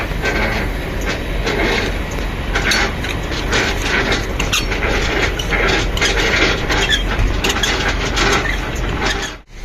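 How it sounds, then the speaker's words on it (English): A truck's fifth wheel slides along its rails, a loud, continuous metallic grinding and rattling close by with clanks and ratcheting mechanical noise, ending in a sudden drop. "before we're gonna pull up the truck and slide the fifth wheel"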